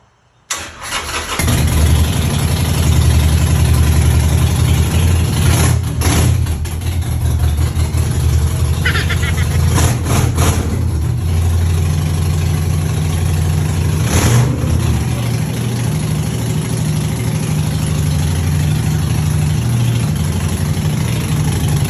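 A scooter engine cranks and catches near the start, then settles into a steady, loud idle with a few brief revs partway through, close by and without talk.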